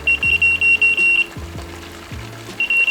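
A Nash R3 carp fishing bite alarm, still wet after being dipped in dirty pond water, gives rapid bursts of shrill electronic beeps close by. The beeping stops in the middle, then resumes, over low clunks and handling noises.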